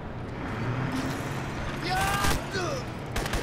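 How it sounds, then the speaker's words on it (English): Minigun fire in the Crysis video game, a sustained rattling burst of gunfire with louder swells mid-way, mixed with game effects and background noise. "I love the minigun."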